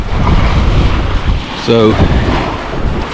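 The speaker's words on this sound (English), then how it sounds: "It wouldn't be bad right now if it wasn't for this wind blowing." Strong wind up to 40 miles an hour gusts across an ocean beach in northeast Florida during surf fishing, a loud continuous roar buffeting the microphone while someone speaks briefly over it.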